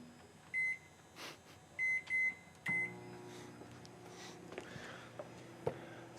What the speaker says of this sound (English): you're going to want to put that in the microwave for about 3 to 4 minutes